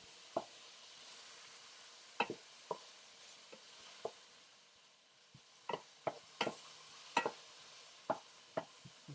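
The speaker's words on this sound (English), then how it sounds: "Let that set and sweat down those tomatoes just a little tiny bit there." Tomatoes with red pepper flakes in a pan give a faint, steady sizzle, broken by sharp clicks and taps of a utensil that come in irregular clusters.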